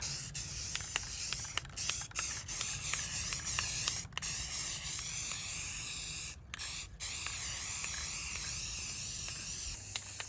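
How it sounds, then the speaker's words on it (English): A spray gun hisses in long continuous bursts with a few brief pauses while clear coating a restored Silverstreet Thunderbolt 1003, close and loud, steady throughout. "we are now clear coating."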